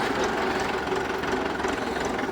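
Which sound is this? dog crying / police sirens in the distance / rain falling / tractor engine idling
tractor engine idling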